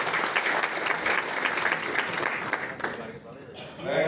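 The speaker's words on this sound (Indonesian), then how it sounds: "Tepuk tangan dulu buat Polisi Indonesia." Dense audience applause at a national sports committee meeting in a Jakarta convention hall, loud and steady before thinning out, with a voice beginning to speak as it dies down.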